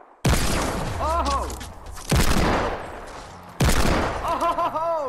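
Hand cannon shots in Fortnite Battle Royale make three loud, sharp booms spaced about two seconds apart, each trailing into a decaying echo, while a person shouts and exclaims over them.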